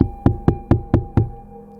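Six firm knocks on a hospital isolation room door, evenly spaced in a quick steady rhythm, loud and close, with brief resonant decay after each and no other sound.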